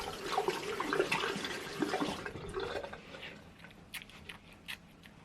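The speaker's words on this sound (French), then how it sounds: "Je vais juste rincer tout mon visage." Running water splashes as a face is rinsed during a home spa evening, a close, continuous wash that thins out into scattered drips and small splashes toward the end.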